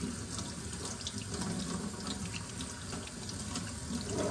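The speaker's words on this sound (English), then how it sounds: "And then I rinse in warm water." Warm tap water runs steadily over a sterling silver bracelet as it is rinsed under a faucet, producing a close, continuous splashing hiss with no pauses.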